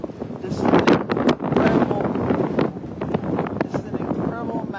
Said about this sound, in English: incredible amount of wind with a fire